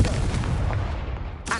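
Confringo fire spell explosion in the video game Hogwarts Legacy, a single booming blast with a short burst and rumbling decay. A second sharp pop follows at the very end.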